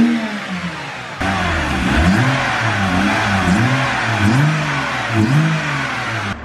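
A BMW 128i fitted with an aftermarket intake revs up close by, its engine note climbing and dropping in repeated blips over a steady idle, loud and alone.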